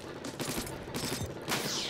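A burst-fire weapon in Splatoon 2's Octo Expansion shoots in quick, repeated bursts of rapid, snappy shots, loud and close, with brief gaps between volleys.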